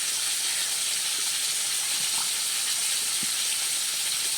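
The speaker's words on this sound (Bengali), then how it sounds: "মাছগুলো ভাজতে বসিয়ে দিয়ে" Fish rubbed with salt and turmeric frying in hot oil, a steady, loud hiss of sizzling that runs unbroken throughout, with a few faint clinks underneath.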